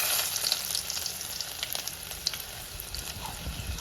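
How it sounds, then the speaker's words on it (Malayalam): Fenugreek seeds and shallots fry in a pan for a Kerala mango curry, giving a steady, fairly quiet sizzle with faint crackles and light stirring throughout. "നമുക്ക് ഇതിലേക്ക് ഒരു അല്പം ഉലുവ കൂടെ ചേർത്ത് കൊടുക്കാം."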